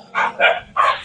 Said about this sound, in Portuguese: E aqui tem um monte de cachorro.